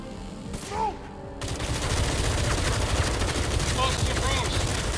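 Dense, continuous volleys of gunfire fill a fight in the video game Batman: Arkham Shadow, starting after a short opening with a voice and holding loud and unbroken to the end.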